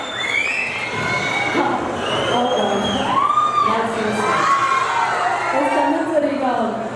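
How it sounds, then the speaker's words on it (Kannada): A film trailer launch crowd cheers loudly to welcome actor Chandan Kumar, with a dense, continuous wash of whoops, high shouts and whistling voices throughout. "ದಯವಿಟ್ಟು ಮೊದಲು ಚಪ್ಪಾಳೆಯಲ್ಲಿ ಸ್ವಾಗತಿಸಿ ಚಂದನ್ ಸರ್ ಅವರನ್ನ"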